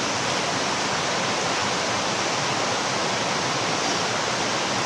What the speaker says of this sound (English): sound of the river, nature